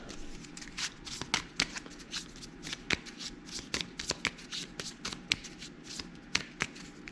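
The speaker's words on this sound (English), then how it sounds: "Shuffle the deck." A deck of cards for a board wargame is shuffled repeatedly, with a steady riffling patter broken by crisp snaps as the cards are bridged, heard close up.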